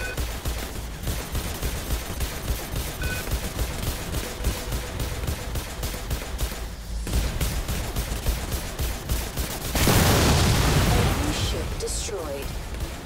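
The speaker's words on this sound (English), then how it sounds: "Oh, we're taking some fire" Continuous rapid gunfire rattles through a space battle in the Star Conflict video game, steady and dense, with a louder burst of explosive noise near the end and someone talking over parts of it.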